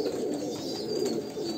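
A Kalanka pigeon of Andhra bloodline coos in a low, throaty, continuous call, close and clear with no talking.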